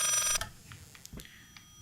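A telephone rings inside the horror video game Layers of Fear: one loud, bright electronic ring burst at the start, then quiet, hollow ambience with faint scattered noises and no talking.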